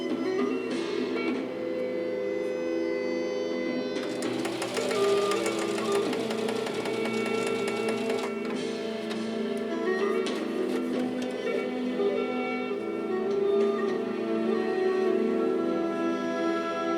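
A Singer Heavy Duty 4423 sewing machine runs straight stitches, a steady mechanical whir under a constant hum that grows denser and louder for a few seconds midway, then settles back.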